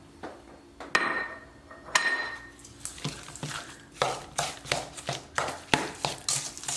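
Brown sugar being mixed in a bowl for banana blueberry walnut bread, heard as a run of close, sharp clinks and scrapes from a utensil against the bowl, with a steady rhythmic tapping in the second half.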